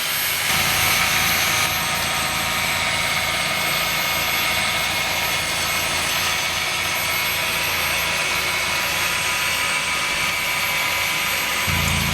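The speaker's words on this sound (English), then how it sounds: "The tiller turns weeded turf into finely ground dirt." A Ryobi 40V rear tine tiller with reverse rotation tines churns weeded turf into fine dirt, making a loud, continuous motor whine and grinding roar that holds steady throughout.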